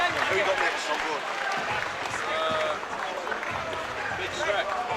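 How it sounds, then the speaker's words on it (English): At a K1 kickboxing fight night, the crowd applauds fighters John Healey and Nathan Ward, dense clapping and crowd noise held for several seconds while people talk over it. "That's a round of applause for both fighters, John Healey and Nathan Ward."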